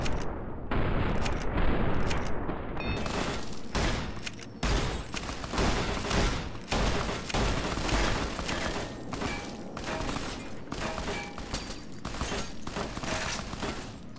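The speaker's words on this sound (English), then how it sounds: "I am getting shot to hell." Gunfire from the video game Fallout New Vegas in a Hoover Dam battle, a dense, continuous fusillade of rapid shots and thumps with occasional booms, sustained and loud throughout.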